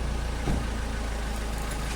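A car engine idles nearby with a faint, steady low rumble that holds an even tone throughout, with no other sounds over it.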